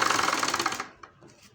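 A sewing machine stitches piping onto a blue blouse, a fast rhythmic mechanical chatter for under a second that then stops, leaving faint quiet clicks.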